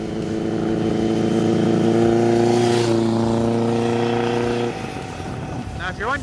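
A 1986 Kawasaki GPZ1000RX motorcycle engine runs with a loud, steady, close-up drone that holds for several seconds, then drops in level near the end.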